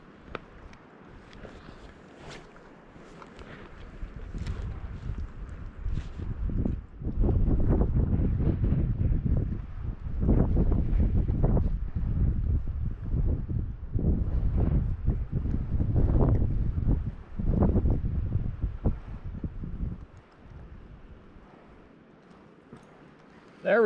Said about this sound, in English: Always a challenge in the spring when it's super windy here in Colorado.